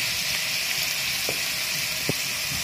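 Ginger and onion sizzle steadily in hot oil, a close, even frying hiss with a couple of faint taps and no pauses.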